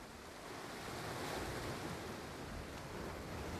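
Atlantic Ocean waves surging against rock beneath a carved natural bridge in Antigua, a steady broad wash of surf with wind noise, fairly faint and continuous with no voices.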